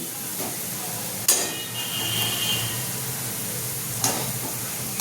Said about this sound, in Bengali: তো দেখো, একটু ভাজা পেঁয়াজ আমি তুলে রেখে দিচ্ছি।